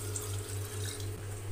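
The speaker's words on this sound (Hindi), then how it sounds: "2 गिलास पानी डाला है मैंने," A steady stream of water runs and splashes into a pressure cooker of green chickpeas, continuous and close, under a low background hum.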